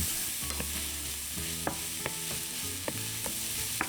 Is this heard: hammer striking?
no